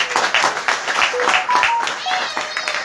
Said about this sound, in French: Alors, on applaudit pour notre maman, non?